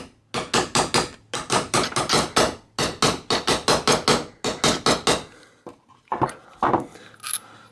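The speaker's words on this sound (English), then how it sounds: "I'm going to use like a big 1/4 inch socket, slide that down over there, and see if I can tap this thing loose." A hammer repeatedly striking a socket to drive out worn bearings in a Bendix 70 bicycle coaster brake hub, sharp metallic taps in quick bursts of three to five, loud and close, then a few scattered clinks as it loosens.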